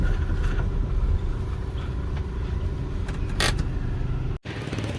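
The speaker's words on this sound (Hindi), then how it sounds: "चलो यहाँ ही गाड़ी पार्क करते हैं।" A car engine idles steadily and loudly up close while being parked in a Pakistani village, a continuous low rumble with a brief sharp knock and a short dropout near the end.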